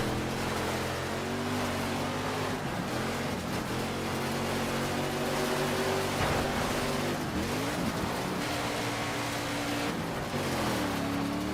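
A rally car engine from the DiRT 2 racing game drones loudly and continuously, its pitch sweeping up and down through repeated revs and gear changes, with no voices over it.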